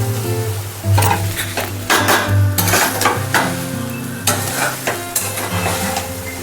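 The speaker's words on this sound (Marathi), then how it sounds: "असं सारखं हलवत राहायचं म्हणजे खिचडी साबुदाणे सुटसुटीत होत्यात" Sabudana khichdi fries in a little oil in a pan while a spoon scrapes and stirs it in repeated close strokes over a crackling sizzle, with clinks of metal on the pan and no talk.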